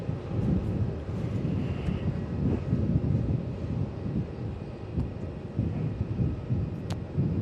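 A Jetstar A320 from Hobart arriving at Melbourne Airport, heard as a loud, continuous low rumbling roar with gusty wind buffeting on the microphone.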